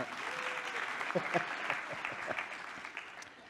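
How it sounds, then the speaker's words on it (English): Steady applause from a conference audience, many hands clapping at once in a continuous wash of sound, with a few louder claps standing out. "I want to give yourselves a round of applause for turning that around."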